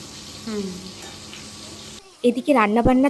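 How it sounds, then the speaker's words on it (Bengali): Steady sizzling and crackling of vegetables frying in hot oil fills the first two seconds, then a voice talks over louder kitchen clatter. "প্রায় তো অনেক রকমের ভাজা হয়"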